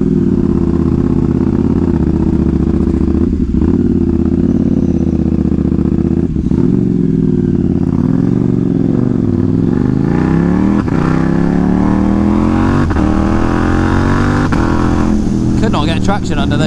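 Yamaha XJ6N and KTM Duke 790 motorcycles on a damp, leafy road during a group ride, engines droning loudly and steadily with rising and falling revs through gear changes, plus wind rush and a voice talking over it.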